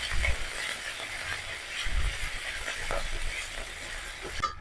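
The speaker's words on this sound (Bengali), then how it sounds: "ততক্ষণ নাড়বেন যতক্ষণ জিরে আর আদা বাটার কাঁচা গন্ধ চলে যায়।" Cumin and ginger paste frying in a pan, a steady close sizzle with occasional scraping from stirring, no voices.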